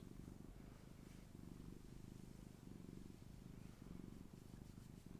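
A house cat purrs close by in a quiet, steady, rhythmic rumble with no other sounds.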